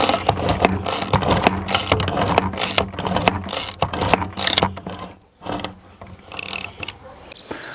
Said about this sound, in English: when you put pressure on the handle from above, that will spin the bit according to the direction that you've got the ratchet set in